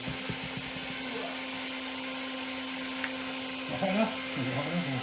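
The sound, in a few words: heat gun heating carbon fiber bike wrap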